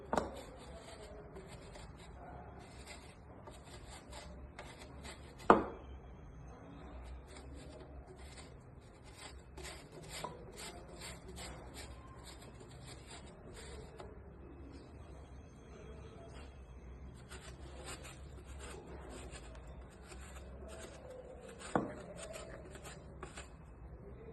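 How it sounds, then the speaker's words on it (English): Chocolate being grated by hand for garnishing, a soft, steady rasping scrape in quick repeated strokes, faint and close, with an occasional louder knock. "Now I'm grating my chocolate for garnishing."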